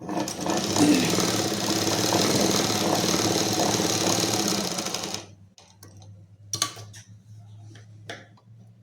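A sewing machine stitches along a V neckline on a collarless garment, a steady loud mechanical whir running unbroken for about five seconds before stopping abruptly, followed by faint scattered handling clicks.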